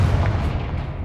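Confringo blasting spell going off in Hogwarts Legacy, a dense, sustained low rumbling burst that fills the whole short moment, loud and close with no voices over it.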